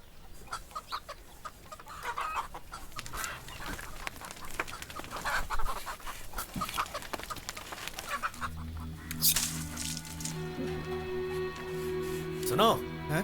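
A chicken clucks in short bursts amid a busy household scene before being taken out to be slaughtered, its calls mixed with ongoing speech and background music, moderately loud and close.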